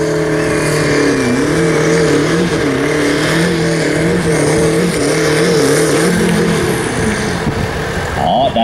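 Tractor pulling event in Sweden with a competition tractor engine restarting and revving, wavering engine drone rising and falling over several seconds, loud and near, with a voice commenting over it.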